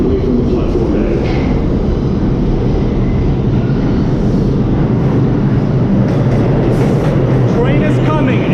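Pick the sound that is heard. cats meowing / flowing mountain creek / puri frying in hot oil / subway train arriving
subway train arriving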